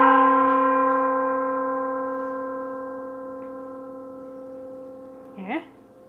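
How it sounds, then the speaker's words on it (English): A single gong stroke rings out with long, steady sustained tones that slowly decay over several seconds, ending in a short vocal sound near the close. "I like the gong"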